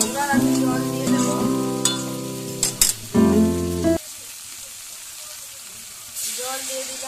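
A sour okra curry fries loudly in a pan, a near, hissing sizzle with a tonal hum over it. The sound drops suddenly to a quieter bubbling as water goes in, then the sizzle rises again briefly near the end.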